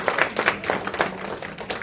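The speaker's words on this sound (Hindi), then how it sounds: "तो जोरदार तालियां बड़ी बहन की।" Enthusiastic audience clapping at a community trust's stage function in Dehradun, with a burst of rhythmic handclaps that swells and fades over a couple of seconds and no voices on top.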